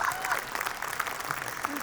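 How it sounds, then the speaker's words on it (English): Audience at a Comic-Con panel claps, a brief burst of applause from a crowd, moderately loud and fairly close, with a faint voice underneath. "that deserves a round of applause."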